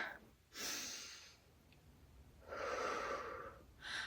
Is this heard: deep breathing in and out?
yes